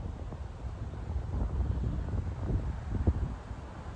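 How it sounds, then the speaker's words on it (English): Gusty wind buffets a phone microphone outdoors, a continuous low rumbling roar that rises and falls in strength, with no voices. "So windy."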